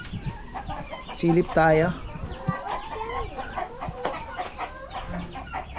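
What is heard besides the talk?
hens clucking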